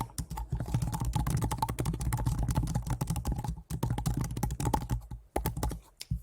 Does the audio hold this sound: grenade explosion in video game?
no